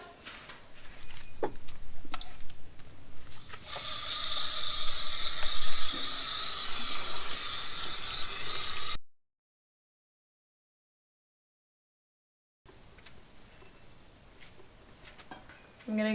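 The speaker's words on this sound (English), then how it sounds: "Okay, gonna go spray this one." A spray bottle misting a potted house plant gives a continuous close hiss lasting about five seconds, with softer handling noise before it and a short gap of silence after.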